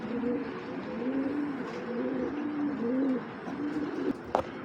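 A racing pigeon cooing in a series of low, rolling calls repeated four or five times, close and fairly soft against faint background hiss, with a short sharp click near the end.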